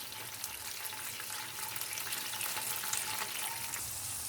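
Sauce of tomato and pepper paste thinned with meatball cooking broth bubbles in a pan, a steady, soft sizzling simmer with no voices.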